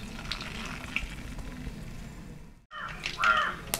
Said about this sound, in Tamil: கடுகு போட்டுருவோம்.